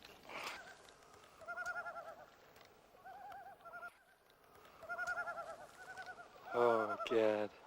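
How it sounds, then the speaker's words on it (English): Loon calls ring out in several bursts with pauses between, distant and fairly faint over quiet background, ending in a louder, nearer series of cries. "Those are loons. That's my bird."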